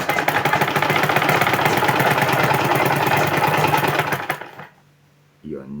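A sewing machine stitches a zipper onto the front piece of a pair of trousers. The motor whirs and rattles loudly and continuously for about four seconds, then stops, and a voice follows.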